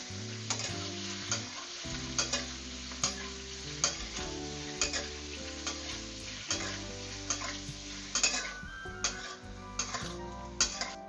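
Pork intestines fry in a hot pot for a Chinese-style dry pot dish, giving a steady close sizzle with frequent sharp pops and crackles throughout.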